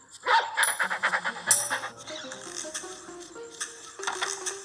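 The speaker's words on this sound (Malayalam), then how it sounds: "ഇവിടെ ഒരു പട്ടിയുണ്ട് ഗൈസ്." Cartoonish dog barks from the Robbery Bob stealth game, a few sharp yapping bursts over electronic game music and background tones, fairly close and moderately loud.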